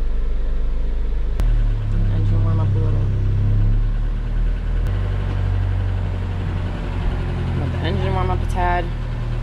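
A boat engine idles steadily just after starting, a low, constant rumble that runs throughout, with a person speaking over it.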